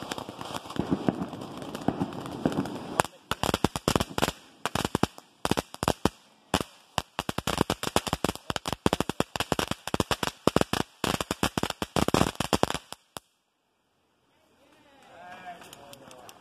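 Fourth of July fireworks and firecrackers go off in dense, rapid volleys of sharp cracks and pops for about thirteen seconds, then stop abruptly, leaving a quiet stretch with faint sounds afterward.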